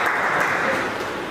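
An audience claps loudly at a public gathering, a thick burst of applause that stays strong and tapers slightly toward the end, close and without speech.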